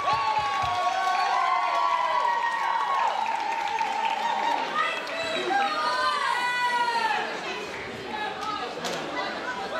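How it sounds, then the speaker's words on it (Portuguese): Crowd at an outdoor soup festival cheering and clapping for a student tuna music group called to the stage, lively whoops and applause mixed with chatter and shouting voices, loud and busy throughout. "uma grande salva de palmas a ela"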